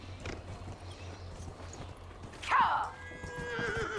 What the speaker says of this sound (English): No! Poor horsey.